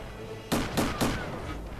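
A tank gun in World of Tanks fires three quick shots in rapid succession, each a sharp crack with a short rolling tail, spaced about a quarter second apart over a faint engine hum.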